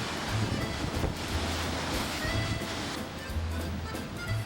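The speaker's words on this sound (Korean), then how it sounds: "유난히 바람도 세서 파도가 아주 거칠었는데요." Rough surf crashes continuously against sea cliffs at Nazaré, Portugal, beneath heavy, buffeting wind noise, a dense roar with no pauses.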